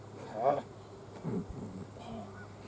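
Honey bees buzz and drone faintly around a package bee install, a soft uneven hum with brief louder swells near the start and middle.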